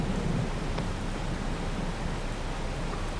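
Rain falling in the video game Farming Simulator 22, a steady, faint hiss of rainfall with low rumbling beneath, continuous and even throughout with no talking.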